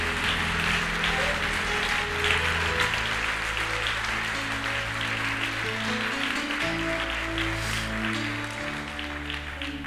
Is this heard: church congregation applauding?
yes